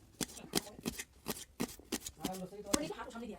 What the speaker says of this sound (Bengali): পেঁয়াজগুলোকে কেটে নিব এখন।